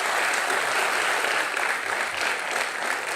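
Studio audience of The Anupam Kher Show applauding for Sunita, a loud continuous wash of clapping with no break.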